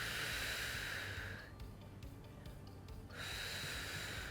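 A slow, airy exhale hisses out during a seated resistance-band exercise, fades into a quiet pause, then a fresh breath rises again, soft and close.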